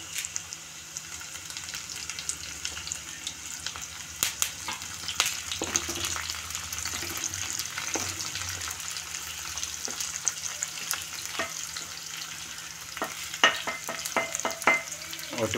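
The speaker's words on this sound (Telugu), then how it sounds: "కరివేపాకు వేస్తున్నాను ఫ్రెండ్స్." Curry leaves drop into hot oil in a pan for tomato dal tempering, giving a steady crackling sizzle with scattered sharp pops and occasional stirring clicks, close up and without talk.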